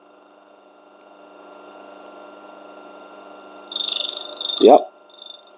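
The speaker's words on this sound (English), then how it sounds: "I will slowly turn until you hear the two burrs touching each other" A DF64 coffee grinder runs with a steady whir, then the burrs briefly touch, giving a short harsh scraping burst near the end. A voice speaks briefly over the motor.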